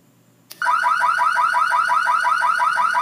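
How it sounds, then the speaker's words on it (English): A car alarm in a video game bursts on after a short silence, a loud rapidly pulsing electronic whoop repeating steadily until the end. "Mario's car alarm went off."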